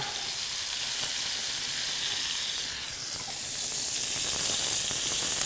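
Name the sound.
onion sweating in a pan with browned rabbit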